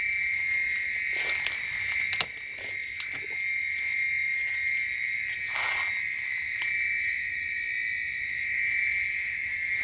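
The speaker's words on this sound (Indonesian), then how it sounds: "Itu suara sengenge" Sengengeh insects calling in a forest at dusk, a dense, continuous high-pitched buzzing chorus with steady shrill tones, joined by scattered brief clicks and soft knocks in the background.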